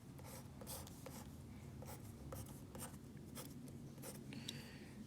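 A pen drawing on paper, a steady scratchy rubbing with short bright strokes, close and fairly quiet, continuing alone over a low background hum.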